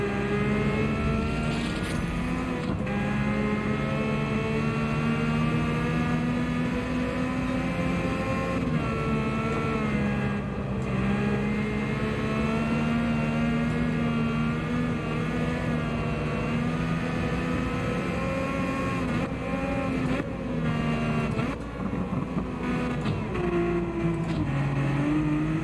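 Race car engine in Gran Turismo 7 on the Suzuka circuit, running on comfort soft tires: a steady, loud, droning engine note that rises and falls slightly with throttle and shifts, alone for the whole stretch with no talking.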